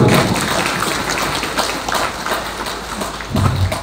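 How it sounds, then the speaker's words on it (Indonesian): Audience applause at a topping-off ceremony and prayer gathering for the Kemenko 4 building, a dense steady wash of many hands clapping, loud and continuous with a few louder swells. "tepuk tangan untuk Pak Fernando."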